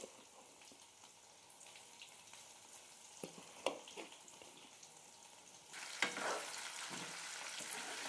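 Stingray pieces frying in hot oil make a steady, quiet sizzle with scattered crackles and a few sharp spatters, growing louder and busier about two-thirds of the way through.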